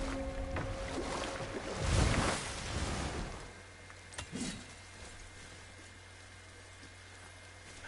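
A boat gliding across water in God of War, with a soft whoosh and splash swelling near the start, then fading into a quiet, low steady hum with a few faint knocks, no voices.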